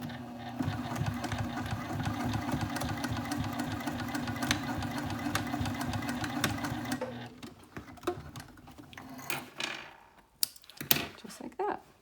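A sewing machine stitches across a backpack strap just above a metal D-ring on an anti-theft backpack. It runs in a fast, steady, close-up mechanical rhythm for about seven seconds, then stops, leaving a few soft handling clicks and rustles.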